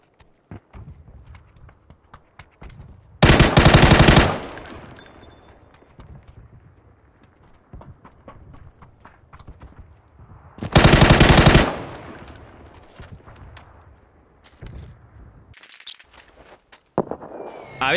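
Automatic gunfire sprays in the shooter game PUBG, two loud dense bursts about a second long each with a third shorter burst near the end, separated by quieter stretches of faint footsteps and movement.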